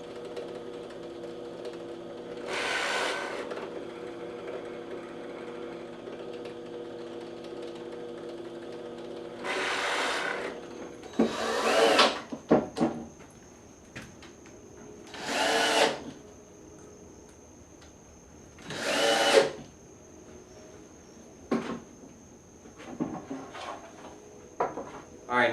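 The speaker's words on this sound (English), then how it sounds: "With my fence set up on the drill press, it will ensure all my holes will be in line." A drill press bores holes through wood for a steam bending box, with a fence keeping the holes in line: four separate bursts of whirring drilling, each a second or two long, separated by quiet gaps and a few clunks of handling.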